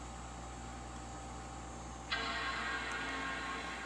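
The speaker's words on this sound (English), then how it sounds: "Wonderful startup chime." A PowerBook G3 laptop sounds its startup chime, a single bright tone that rings on over a steady hiss of fan or background noise, moderately faint.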